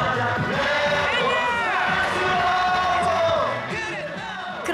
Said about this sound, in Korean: 그런 싸이의 열정이 더욱더 커져가는 함성